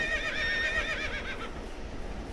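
A horse neighs loudly during a rope lasso capture, its whinny rising and falling near the listener over the first second and a half before trailing into rustling movement and faint hoof sounds.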